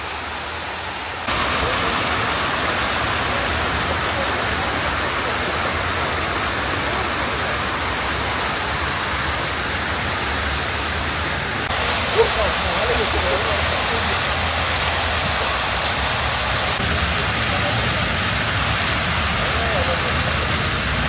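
Steady broadband rush of water splashing in a big fountain in Tashkent, Uzbekistan, where a mother duck and her ducklings live, continuous and fairly loud throughout with one brief knock partway in.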